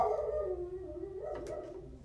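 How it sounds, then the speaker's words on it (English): A dog howls and whines at night outside a house with a sunken patio and awning, a drawn-out, wavering cry that stays loud and close for about two seconds with no talk over it. "What the fuck is my dog barking?"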